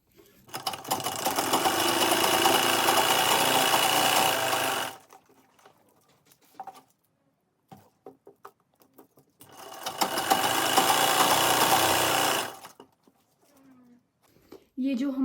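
Sewing machine stitching the hem of an embroidered salwar, two long steady runs of fast mechanical whirring, each several seconds, close and loud, separated by quiet fabric handling and soft talk.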